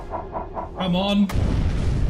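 A torpedo strikes a ship in a U-boat naval game, set in April 1944, bursting into a loud, rumbling explosion after a short rising tone, with a speaking voice partly heard earlier.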